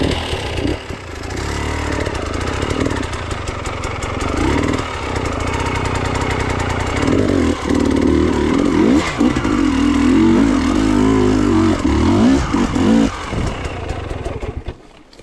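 An enduro motorcycle climbing a switchback and pivoting around a tight turn, its engine droning loud and close with throttle blips and revving surges throughout.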